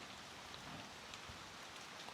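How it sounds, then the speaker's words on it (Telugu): Steady rain falls outdoors during a hailstorm in hilly tribal country, a soft continuous hiss of drops heard alone at a moderate distance. "వర్షం అయితే వస్తుంది."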